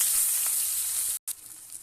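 Onions and cumin frying in hot oil in a wok give a continuous bright sizzle that cuts out for a split second, then resumes a little quieter.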